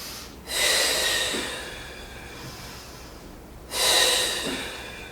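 Two deep breaths from someone doing a Pilates swimming exercise, close and airy, each a strong rush of air that fades slowly, with a quiet pause between them and no talking.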